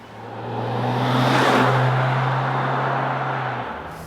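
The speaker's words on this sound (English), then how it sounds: "Quite nice sound from this V6" A Mercedes GLS V6, the 400 or 450, revs steadily with a smooth engine drone that swells and fades over a few seconds. No voices are heard.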